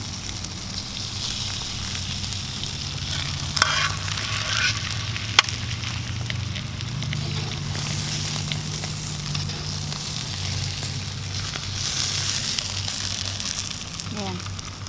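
Pompano fish sizzles steadily in hot oil in a pan, a constant loud crackling frying sound with a couple of sharp clinks, and a voice talking over it.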